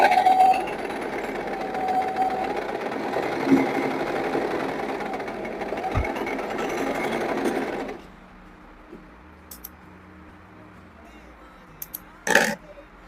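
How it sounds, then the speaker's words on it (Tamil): A sewing machine runs steadily for about eight seconds as it stitches a plain seam in fabric, then stops, leaving a quiet room with a couple of brief knocks near the end. "இப்போ நான் 1/2 inch டிஸ்டன்ஸ்ல ஒரு ஸ்டிச் போட போறேன்"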